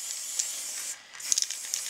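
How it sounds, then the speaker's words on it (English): Bronze spray paint sprays from an aerosol can onto autumn leaves indoors, a steady close hiss that briefly stops, then resumes with a few short bursts and puffs. "I have some autumn leaves here, which I'm gonna spray coat"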